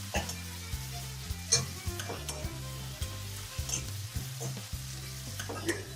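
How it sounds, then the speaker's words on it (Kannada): Garlic and tomato fry in a pan with a steady sizzle, punctuated by repeated stirring scrapes and clinks, close and moderately quiet, with no talking. "ಸೊ ಸ್ವಲ್ಪ ಫ್ರೈ ಆಗ್ಬೇಕು ಇದು ಚೆನ್ನಾಗಿ"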